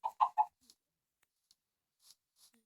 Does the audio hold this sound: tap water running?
no